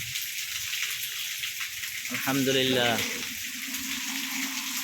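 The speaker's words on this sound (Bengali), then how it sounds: "অনেক বৃষ্টি হইতেছে, কালকে রাত ধরে বৃষ্টি।" Heavy rain pours in a steady, dense hiss that fills the whole clip, while a voice speaks briefly in the middle over the downpour.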